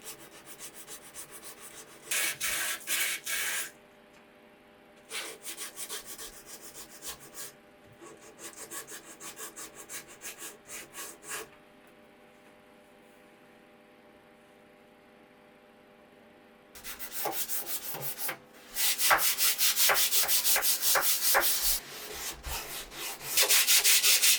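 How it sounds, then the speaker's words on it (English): Bursts of hand sanding on the curved wooden edges of a vintage vanity, rhythmic back-and-forth rubbing strokes in several separate bouts, close and fairly loud, with quiet pauses between. "on these curved edges, it's just a lot easier to go in with hand sanding"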